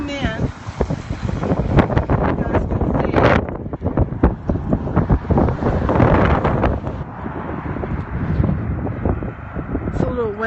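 Wind buffets the microphone in uneven gusts, with low rumbling bursts throughout and a person's voice faintly heard in parts.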